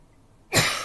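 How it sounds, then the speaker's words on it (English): A single sharp cough from an adult man bursts in partway through, loud and close, after a stretch of near silence, then trails off with a breathy tail. "Sorry, I had to cough."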